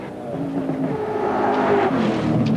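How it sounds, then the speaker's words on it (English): Holden 308 5-litre V8 race car at Bathurst, a loud rasping exhaust note rising and sustained as the car accelerates nearby, brief and continuous. "Exhaust puffing out the exhaust of the 308 5-litre Holden."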